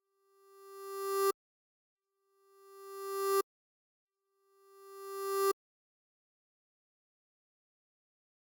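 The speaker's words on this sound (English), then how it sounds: "let's say that we're going to start with a sine wave" Synthesized sine wave tone played three times, each rising steadily in loudness for about a second before cutting off abruptly, separated by silent gaps, clean and alone.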